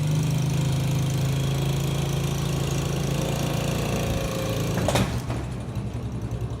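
A quad ATV engine idles steadily and close by while being loaded into the back of a pickup truck, with a low, even drone and a single sharp clunk near the end before the idle carries on.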